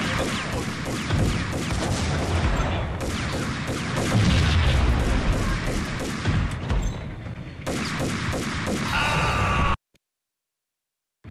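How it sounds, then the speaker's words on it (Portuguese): A grenade blast in the shooter Max Payne erupts amid continuous heavy gunfire and booming combat noise, loud and dense for nearly ten seconds before cutting abruptly to silence. "eu joguei uma granada do lado do cara"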